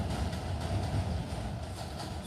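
A passenger train runs along the rails with a steady low rumble and faint rhythmic clatter heard from inside the carriage, continuous and fairly loud, with no voices.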